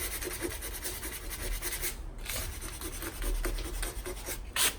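Close, continuous rubbing and rasping of sandpaper against a wall in quick back-and-forth strokes, with a brief pause midway.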